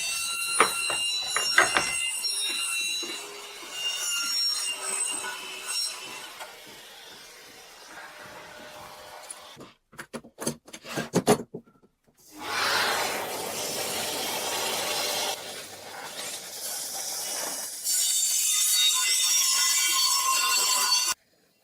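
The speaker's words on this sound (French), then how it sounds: "puis on fera une coupe étroite en long. Juste pour voir comment la lame multimatériaux avance dans son sort." Evolution circular saw fitted with a multi-material blade making a narrow lengthwise cut along a guide rail, with high whining cutting bursts broken by a pause and clicks, then a loud sustained cut at close range.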